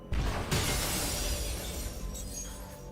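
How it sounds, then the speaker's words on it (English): Glass shatters in Metroid Prime 4, a sharp loud break followed by a second crash and a long trailing tinkle of falling shards, heard alone without talk. "So why is this glass breakable?"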